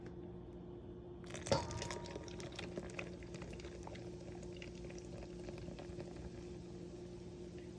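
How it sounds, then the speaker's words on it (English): Coconut milk and beer pour into a bowl of Vietnamese crispy pancake batter, a soft, steady liquid trickle after a brief clunk near the start, quiet and close with no voices. "Now we're going to add our full can of coconut milk and our full can of beer."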